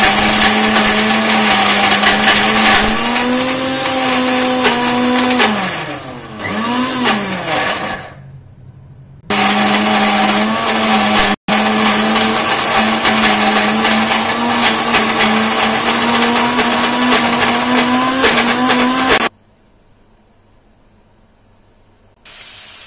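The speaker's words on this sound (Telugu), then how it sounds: "దీన్ని ఇప్పుడు మనం మిక్సీ పెడదాం" A mixer grinder whirs loudly and steadily as it grinds tempering spices with onion pieces for an ivy gourd onion curry, pitch wavering briefly midway and cutting out twice before stopping near the end.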